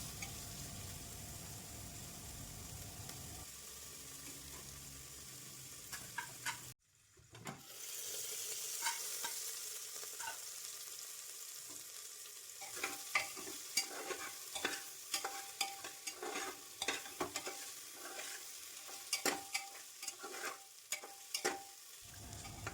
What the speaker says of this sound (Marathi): त्या चांगल्या परतून कुकरचं झाकण वरती नुसतं ठेवायचं